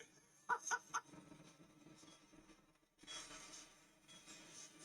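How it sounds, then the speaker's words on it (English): Seagulls in the farming video game Farming Simulator 22 let out a few quick, sharp squawks in a cluster near the start, followed by a low game ambience and a soft rushing wash. "Seagulls, yeah"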